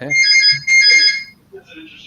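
A phone ringtone chimes in two bright bursts, loud and close, then a fainter tone follows while people talk nearby.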